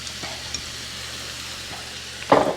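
Onions frying in a pan for cabbage rolls, a soft steady sizzle close by with a brief clatter of utensils near the end, no talk.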